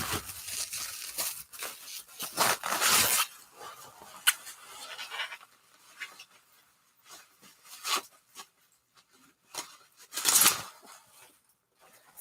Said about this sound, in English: it's a plastic bag with more plastic in a box.